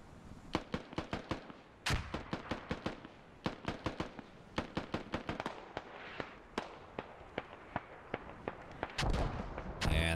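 Mortar barrage explosions in a military squad shooter game, a rapid irregular string of sharp, loud blasts with a few heavier booms, continuing for about ten seconds without talk.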